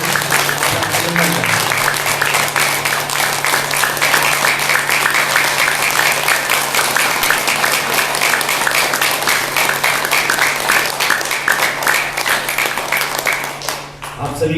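Loud, sustained applause from an audience at a yoga session, dense clapping running steadily for the whole stretch before tapering at the end.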